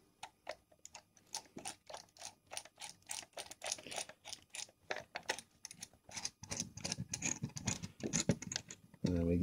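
A small screw is driven back into the casing of an airsoft hi-cap magazine, heard as a close series of rapid ratcheting clicks that grow denser and louder toward the end.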